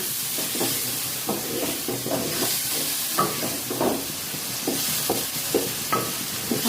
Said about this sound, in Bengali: ভালো করে পানি দিয়ে কষাবো।